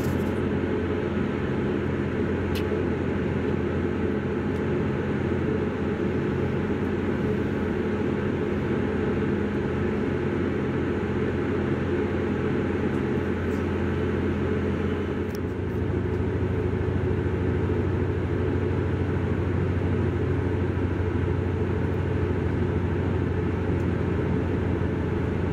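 Steady rumble and drone of a South Western Railway Class 159 diesel train on the move between Exeter and Axminster, heard from inside the back carriage near Cranbrook, continuous and loud with a slight shift in tone midway.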